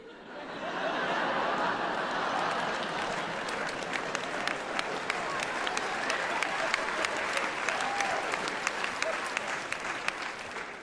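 Applause from a comedy show audience in a large venue, a broad sustained roar of clapping with scattered sharp individual claps and faint chuckles mixed in, holding steady for about ten seconds.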